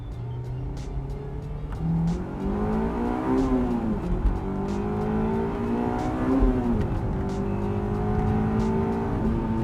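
Honda S2000 Club Racer accelerating on a test drive, engine pitch climbing through the gears with brief dips at each shift, heard steadily from inside the car.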